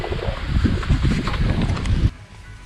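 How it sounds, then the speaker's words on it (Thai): Strong wind over an island dinner spot on Phi Phi, buffeting the microphone in a loud, continuous rush that cuts off abruptly near the end. "โอ้ย ลมแรงมาก"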